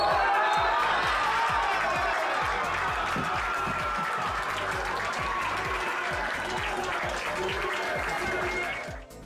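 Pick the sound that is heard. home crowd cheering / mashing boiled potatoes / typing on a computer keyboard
home crowd cheering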